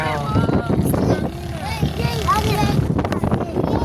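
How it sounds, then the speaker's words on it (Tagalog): Wind buffeting the microphone with a steady low roar, while people talk over it. "Hangin dito. Hangin."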